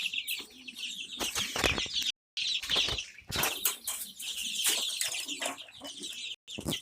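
Desi hen and her twelve naturally hatched chicks cluck and peep on a home balcony, with dense overlapping chirps and soft clucks running almost continuously, broken by two brief gaps.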